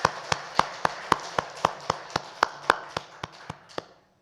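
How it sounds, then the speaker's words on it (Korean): A church congregation at a Sunday service claps in a slow, steady unison rhythm, about fifteen crisp, evenly spaced claps that fade out at the end, with no talking. "우리 박수로 축하합시다."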